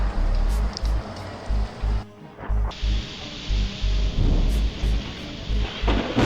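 Thunder from lightning strikes rumbles in heavy bursts through a storm, with rain and wind noise throughout and a brief quieter gap before the rolling booms return.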